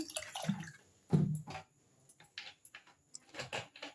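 Water poured into a pressure cooker while cooking a dumur (fig) curry gives short bursts of splashing and trickling, separated by quiet gaps, fairly close and soft.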